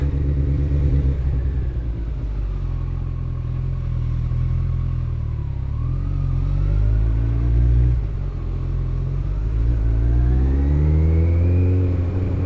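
Kawasaki ZX-14R motorcycle engine revving and pulling hard while filtering through traffic, a loud, steady rumble with rising and falling pitch sweeps as the rider works through the gears, close up and continuous, with no talking.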